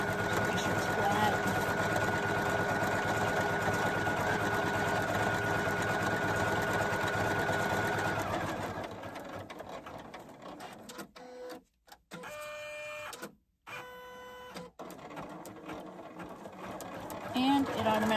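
A Poolin EOC06 embroidery machine stitches steadily and loudly with a fast, dense mechanical needle rhythm for about eight seconds, then quiets to a lower hum broken by brief pauses and clicks while someone talks over it.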